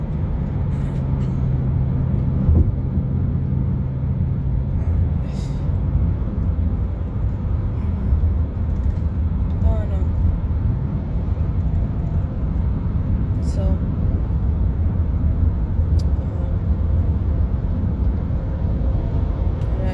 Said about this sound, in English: but we're back in the car again.